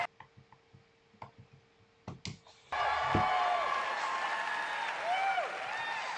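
Audience clapping at the Bethesda E3 2019 showcase, a sudden loud burst of crowd applause after sparse ticking and tapping, sustained to the end.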